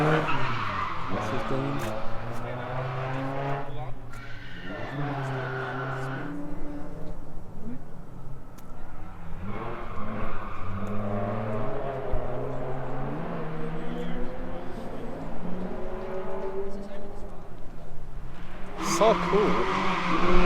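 Drift cars at Ebisu circuit skid with long tire squeals over revving, bouncing engines, loud and continuous, with passes rising and falling and people talking nearby.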